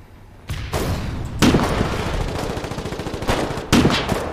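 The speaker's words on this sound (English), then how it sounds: "I'm killing it with this AT rifle I just nicked." Anti-tank rifle fire in the Foxhole video game: several sharp, loud booming shots, each followed by a rumbling tail, over continuous battle noise.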